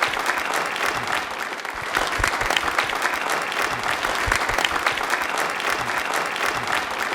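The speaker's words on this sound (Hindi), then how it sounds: "तालियां एक बार जोरदार हो जाए इनके लिए।" Studio audience on a Rajasthani television quiz show breaks into steady, loud applause that holds evenly throughout without pause.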